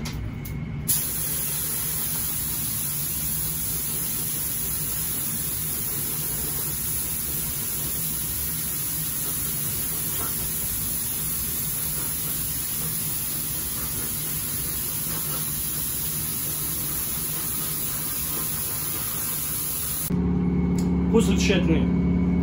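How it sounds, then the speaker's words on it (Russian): Hand sprayer rinsing a headlight reflector part during restoration work, a long continuous hiss held steadily for about twenty seconds, close and loud, then stopping as a low hum takes over. "И также тщательно промываем, как и при первом способе нанесения с помощью распылителя."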